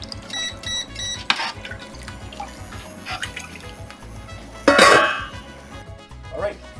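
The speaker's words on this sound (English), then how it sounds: "we're going to stir this and bring it back to a boil" Mexican potato leek soup with potatoes is stirred in a pot, with soft liquid sloshing and a couple of sharp utensil clinks against the pot. A low voice is heard briefly.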